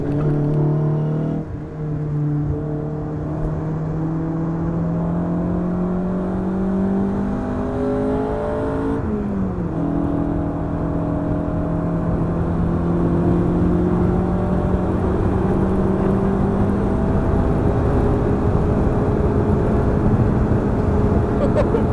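An Ariel Atom accelerates hard on a race track, its engine note climbing loudly through the gears with a brief dip at each shift, a continuous close-up roar throughout.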